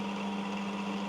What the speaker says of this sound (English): So the only noise you've got now is the motor.